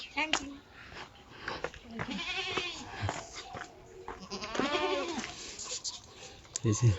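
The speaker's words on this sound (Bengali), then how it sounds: "আমাদের দেশের ছাগল" Several goat bleats, wavering and nasal, sound close by between stretches of people talking outdoors.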